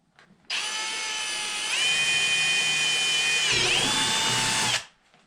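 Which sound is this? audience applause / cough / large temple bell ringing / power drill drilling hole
power drill drilling hole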